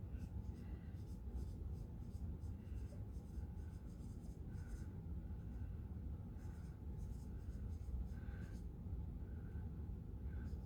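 Pen or marker strokes on a board or paper as a teacher writes out an explanation of ARDS ventilation, a steady faint scratching under low room rumble, continuous through the stretch with no talking.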